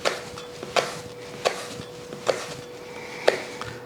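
A thin kitchen knife cuts through ingredients for a traditional Waldorf salad on a board, giving five or six crisp, evenly spaced knocks over a faint steady hum.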